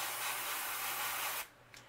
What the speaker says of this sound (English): I can follow the gill line here and spray lightly, cover the gill, and spray just on the outside of that gill